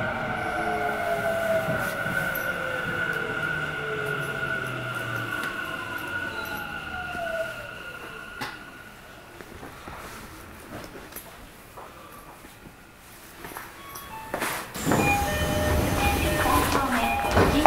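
A Tokyo Metro Fukutoshin Line 10000 series train runs between Ikebukuro and Shinjuku-sanchome, with a steady rolling rumble and a motor whine that slides down in pitch, then a louder surge near the end.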